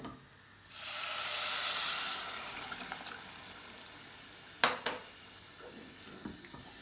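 Water poured into a pot of frying tomato paste and simit sets off a loud hissing sizzle that swells and slowly fades, followed by a few clinks of a utensil against the pot.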